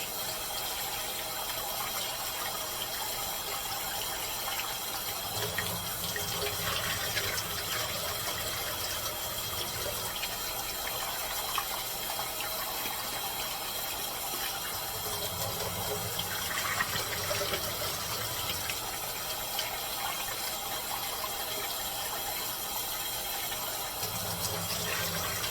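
A kitchen tap runs continuously into the sink while food is rinsed, a steady mid-level splash with small surges where the stream hits the food or the container.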